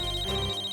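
A telephone rings briefly, a steady electronic tone over a low background hum, lasting under a second.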